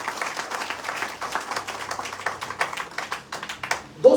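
Audience applause at a motivational gathering in Patna, Bihar: steady, dense clapping from a crowd filling the room, ending with a brief louder sound at the close.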